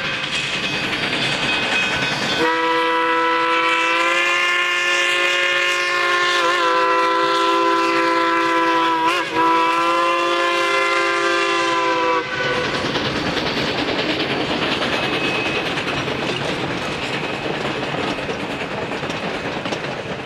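Durango and Silverton steam locomotive 473 climbing the 2.5% grade of Hermosa Hill in Colorado, its whistle sounding a long, loud, sustained blast over a steady rolling rumble of the train.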